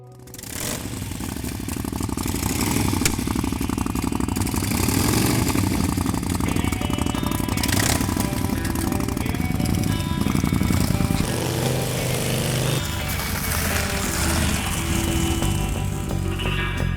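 Custom vintage-style Indian Scout motorcycle engine running close by with a slight flutter, a loud, busy mechanical rumble and clatter that holds steady before easing toward the end.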